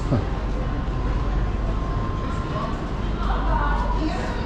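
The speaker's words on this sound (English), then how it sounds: "And here is the train" A steady low rumble of an Arlanda Express train at a station platform, with a faint mechanical hum and occasional clanks, while people talk nearby.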